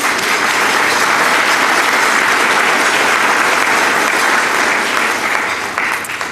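An event audience applauds community partners with sustained, full applause, steady and loud for about six seconds, easing slightly at the end.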